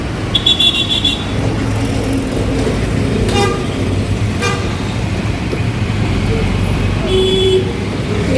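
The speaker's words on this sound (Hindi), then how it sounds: "तो गाड़ी हमारी आ गई है भाई, सामान वगैरह रखते हैं, चलते हैं।" Road traffic with a car pulling up in Haldwani at night, a few horn toots standing out over a steady engine and roadway rumble, with people talking nearby.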